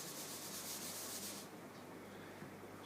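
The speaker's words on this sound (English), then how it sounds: "what I'll do is that I'll just rub this off" An eraser rubs writing off a classroom board in a steady, faint, continuous scraping swish that eases off slightly after the first second and a half, with no voice over it.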